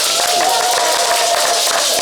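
An audience applauds a guest at an Ivorian national excellence awards event, a dense steady patter of many hands, fairly close, mixed with crowd voices throughout.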